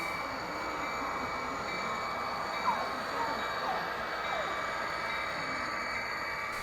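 A model train rumbles steadily along a club layout track, wheels clicking and squealing faintly, with an even mechanical hum and a soft background murmur.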